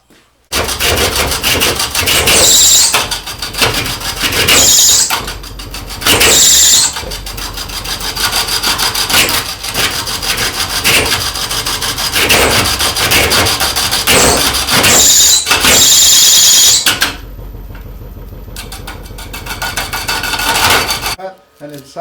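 A turning tool cuts a cedar burl bowl on a wood lathe, making loud rough scraping and rasping in repeated bursts with brief pauses, then goes quieter near the end.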